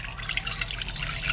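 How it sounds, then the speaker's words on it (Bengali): Water pours steadily onto kuli pitha dough in a kitchen, a brief, continuous splashing trickle heard up close with no voices. "একটু জল দিয়ে দেব।"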